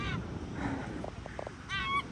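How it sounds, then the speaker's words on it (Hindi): Geese honk several times at sunset in Scotland, faint and distant at first, then a clearer burst of calls near the end over a quiet outdoor background. "पंछी"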